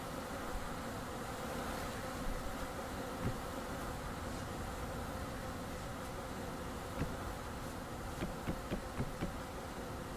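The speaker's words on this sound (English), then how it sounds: "So many angry bees." Angry bees in the survival video game Vintage Story, a dense, steady insect buzz swarming close by for the whole stretch, with a few faint clicks and taps mixed in.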